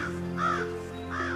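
A crow caws twice in an animated folk tale, two drawn-out harsh calls close and clear over a steady droning background.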